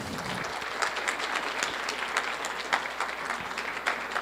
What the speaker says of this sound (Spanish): Un fuerte aplauso, por favor, para el profesor.